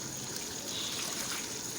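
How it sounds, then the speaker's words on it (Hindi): Mutton yakhni stock is poured into rice for pulao, making a soft, continuous gush of liquid at a low, steady level throughout. "ये जो यखनी का पानी था वो मैं इसमें ऐड कर दूँगी"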